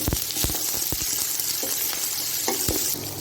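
Onion frying in a pan for carrot rice, a steady broadband sizzle with repeated sharp scraping strokes of a spatula stirring it, close and fairly loud, no voices.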